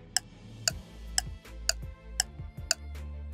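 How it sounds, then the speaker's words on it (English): A clock ticks in an even, crisp rhythm, six sharp ticks about half a second apart over a low hum, heard alone. "we need a clock ticking sound effect for clock animation"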